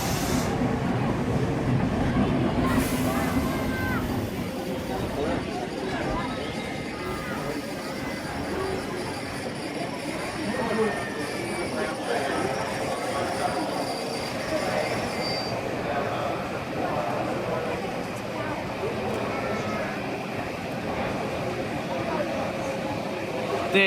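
The Red Lady F1 train pulls in alongside a station platform, a steady rolling rumble with rising wheel squeal and metallic screeching, faint voices and announcements mixed in.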